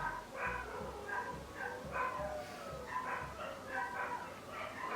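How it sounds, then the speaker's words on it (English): Indoor dogs bark and yip in short repeated bursts at moderate distance, a rhythmic series of yaps with a few whimpering tones mixed in, running steadily across the whole stretch. "Do excuse the dogs."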